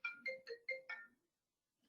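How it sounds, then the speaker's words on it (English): A mobile phone rings in five quick bright electronic tones in a rapid burst, fairly close and clear, followed by a short pause and the start of another ring. "sorry about that, it's my phone."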